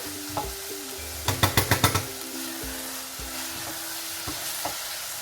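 Chicken mince masala for qeema samosas frying in a pan, a soft steady sizzle under a quick run of about six sharp spoon taps against the pan and a few scattered clinks, without any voices.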